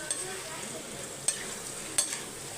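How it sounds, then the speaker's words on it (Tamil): Marinated chicken sizzles and fries in oil in a pan for chicken chukka, a soft continuous crackle with a few sharp clinks of a spoon stirring, fairly quiet and close. "நம்ம ஊற வச்ச சிக்கனை போடணும் இப்போ இதை நல்லா மிக்ஸ் பண்ணி விட்டுடலாம்"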